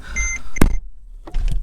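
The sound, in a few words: car warning beeping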